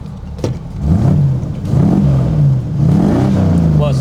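A 1932 Ford 5-window coupe hot rod engine revs up and down in a few deep, throaty surges, close by and loud, with a voice briefly audible at the start.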